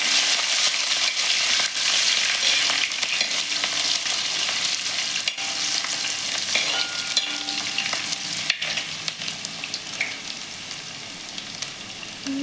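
Chopped ginger and garlic fry in hot oil for a mutton curry, giving a steady, loud sizzle that runs unbroken throughout, with occasional soft stirring scrapes and no voices.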